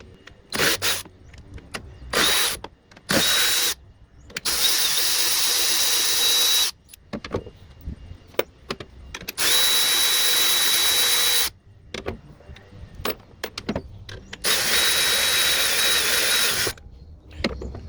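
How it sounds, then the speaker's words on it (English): A 13mm socket tool removing the strut top bolts on a 2019 MK7 VW GLI/GTI, heard as loud bursts of power-tool whirring separated by short pauses and a few clicks, with no one talking. "Now we're going to get the bolts on the top of the strut."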